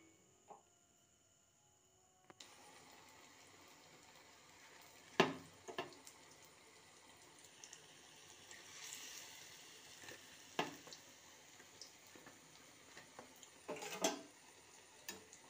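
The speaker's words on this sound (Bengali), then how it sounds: "বাকিগুলো আমি ঠিক এইভাবেই ভেজে নেব" Food frying in hot oil, a soft steady sizzle with crackling spits and a few sharper clinks of utensils, starting after a short quiet moment and continuing at low volume.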